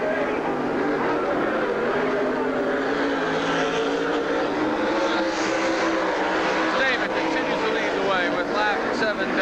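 Race cars roar around the oval at Silver Spring Speedway, a loud continuous engine drone that rises and falls as the pack passes, with a race announcer talking over it.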